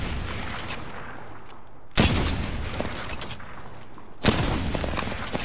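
Video game gunfire under a steady background din, with two loud sharp shot impacts spaced a couple of seconds apart and lighter crackling between them.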